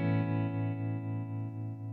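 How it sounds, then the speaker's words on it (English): Guitar chord sustained through the amp tremolo effect of a Headrush pedalboard, its volume pulsing in a steady rhythmic throb, moderately quiet and heard alone. "Let's listen to the amp tremolo again."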